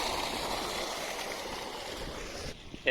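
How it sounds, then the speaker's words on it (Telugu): Irrigation water pouring into a paddy field on a village farm: a steady, soft rushing and gurgling flow heard alone, ending with a brief faint knock. "చూడండి, వాటర్ వేసిండాడు మొత్తం అంతా. ఫుల్గా పోతున్నాయి వాటర్, సూపర్గా ఉంది."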